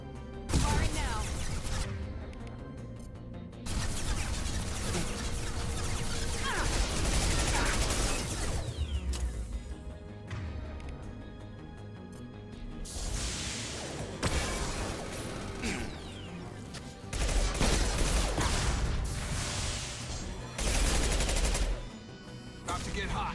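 Mass Effect 2 Legendary Edition combat on PS5: loud, sustained bursts of automatic gunfire with mechanical clatter, pausing briefly and then resuming, under game voices and effects.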